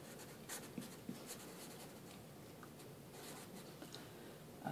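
Pen writing a sentence on paper or a tablet during a statistics lesson, a faint, steady scratching with a few small taps, quiet and alone with no talk.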